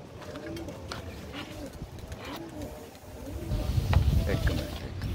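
Pigeons coo in repeated soft, throaty phrases at a steady pace, with a low rumbling background noise that swells toward the end.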